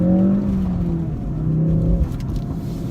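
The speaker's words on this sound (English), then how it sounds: "Bit of old acceleration there." A Ford Focus RS with engine trouble and a failing fuel pump accelerates, its engine note droning and rising under loud, continuous road rumble heard from inside the car.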